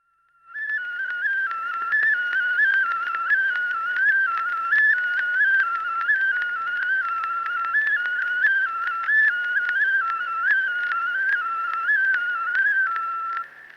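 A handmade whistle is played in a continuous melody of shifting high notes for around thirteen seconds, close, clear and steady, with no talking.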